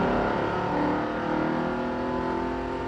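A car engine revs steadily and loudly with a rough, wavering note, heard alone for a few seconds with no talk.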